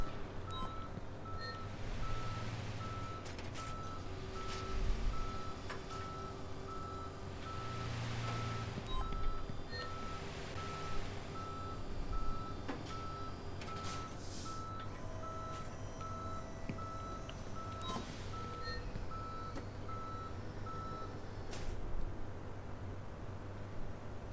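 Tow truck reversing beeps in the Police Simulator: Patrol Officers game, a steady series of high electronic beeps sounding over a low idling engine rumble and faint traffic noise, with no talking.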